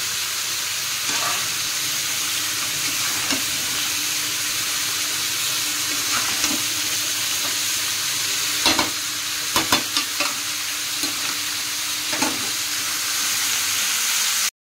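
Chicken sautés in a hot pan with a continuous close frying hiss, punctuated by scattered clinks and scrapes of a spatula stirring.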